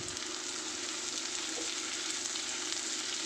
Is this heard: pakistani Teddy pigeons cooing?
no